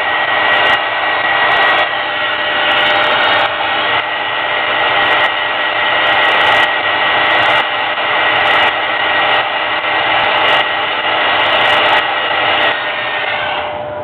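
A hair dryer runs steadily to dry paint on a miniature figure, a loud close whooshing roar held for the whole stretch, with a few faint knocks and rubs underneath and no voice.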